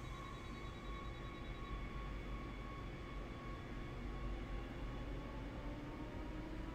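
A commuter train in the Train Sim World game (Rapid Transit) rumbles along steadily, a dense continuous engine and rail drone with faint tonal whine, unchanging throughout.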